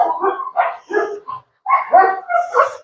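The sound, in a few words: puppy barking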